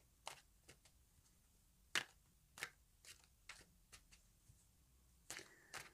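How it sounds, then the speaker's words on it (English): A deck of oracle cards is shuffled by hand, giving sparse, quiet taps and flicks at an irregular pace against a near-silent room. "So we'll give these a good shuffle"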